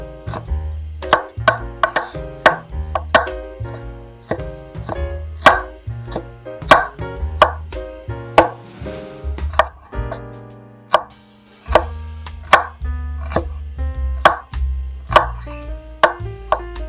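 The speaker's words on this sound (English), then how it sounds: "To start, you'll need one large onion. Slice it thinly" One large onion sliced thinly with a knife on a board for goulash, giving a steady run of sharp chopping thuds at a brisk, regular pace, loud and close, with no talk.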